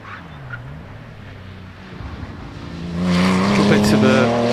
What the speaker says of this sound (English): Andy Fagan charging up towards the top part of the hill in the Boxster.